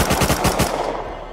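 Automatic AK rifle bursts in the survival game Rust fired during a clan base raid, a loud rapid string of close shots for about half a second, then a ringing echo that fades out.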